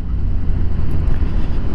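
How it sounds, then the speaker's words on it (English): Strong gusty wind buffets the microphone with a low, rumbling roar throughout while riding a Suzuki GSX-R1000R motorcycle along the quay at Great Yarmouth, no other sounds standing out. "It's very windy today"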